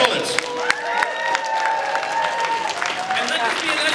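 A crowd at a convention auction cheers and claps loudly and continuously, with voices shouting over the applause.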